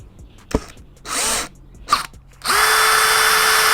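A power drill whirs in short bursts, with a couple of clicks between, then runs in a sustained high-pitched whine as it drives screws into a skateboard.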